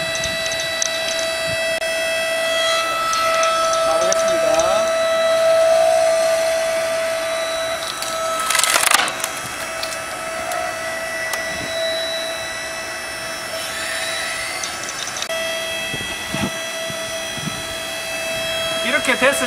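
An electric hydraulic log splitter (KM Grand, household-voltage powered, 30 cm logs) idles with a steady tonal motor hum and whine, fairly quiet and continuous, with a few brief clanks and knocks over it.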